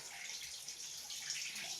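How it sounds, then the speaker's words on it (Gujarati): Water flows out of a cave on Girnar hill, a faint, steady hiss of running water with no distinct splashes, heard briefly with no talk. "આ જો ભાઈ પાણી આવે છે આ બધું ગુફામાંથી"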